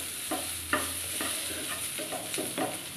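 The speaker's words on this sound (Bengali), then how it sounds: "যতক্ষণ না এটা একটু পোড়া পোড়া হয়, আর না যতক্ষণ খোসাটা চুপসে চুপসে যায় ততক্ষণ এটা ভাজতে থাকবো।" Small red potatoes with onion fry in a pan, a soft sizzle beneath repeated stirring strokes that scrape and clatter at a loose rhythm, close and moderately quiet with no talking.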